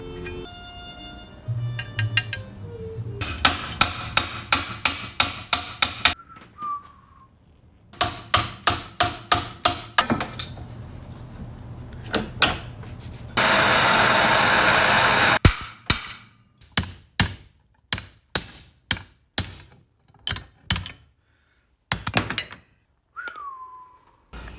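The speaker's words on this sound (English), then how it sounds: "I've been banging on this screw for a few hours, trying not to break anything." Repeated hammer blows on a stuck screw while working on a 1987 Honda CR500 motorcycle part, coming in loud sharp bursts of rapid metallic strikes separated by pauses, with a steady hiss of blasting air in the middle.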